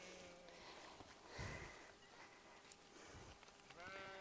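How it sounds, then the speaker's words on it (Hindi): Young goats give short, faint bleats at intervals amid a low insect buzz and quiet background, outdoors on a farm. "ये बकरियों के बच्चे हैं जी"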